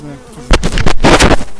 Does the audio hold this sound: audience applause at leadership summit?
no